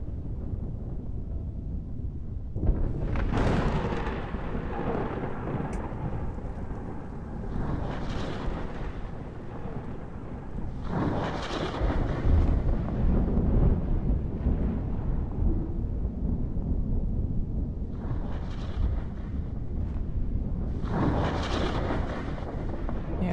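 Thunderstorm on Urlum in Kerbal Space Program: deep rolling rumbles swelling in several long waves over a constant windy roar, loud and heavy throughout with no talking.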